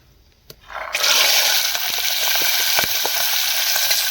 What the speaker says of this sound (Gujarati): પહેલાં જીરું નાખી દે, વટાણા નાખી દે. તેલ આવી ગયું ફૂલ.